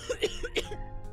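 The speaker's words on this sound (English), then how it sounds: "starts coughing heavily. Her hand hastily goes to her mouth to stifle the sounds." A woman coughs heavily, several harsh bursts in quick succession, loud and close, stifled as if behind a hand.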